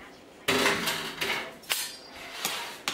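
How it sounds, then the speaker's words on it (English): A large spoon scoops and drops portions of mashed potato onto shepherd's pie in a pan, giving several close, soft clinks and scrapes of metal on pan in an irregular rhythm. "just spoon the potato kind of in portions across the top of the shepherd's pie"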